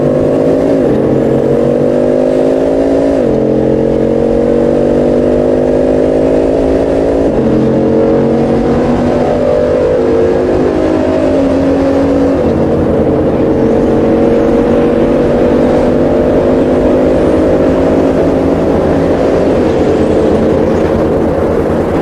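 A Bugatti Chiron engine roaring at high speed, loud and sustained, with repeated rising pitch sweeps as it climbs through the gears over about twenty seconds, with no talk.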